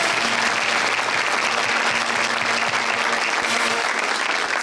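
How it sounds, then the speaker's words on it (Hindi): Studio audience at an Eid-ul-Adha special television show applauds steadily and loudly, a dense continuous wash of clapping with a faint low hum underneath. "तालियां बजाइए जोरदार।"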